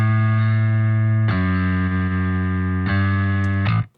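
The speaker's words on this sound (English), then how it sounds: "I did do some clean bass for that section alone," A clean, undistorted bass guitar part in a low-tuned DADGAD metalcore song holds long sustained notes, changing pitch twice with sharp attacks, loud and steady, then cutting off at the end.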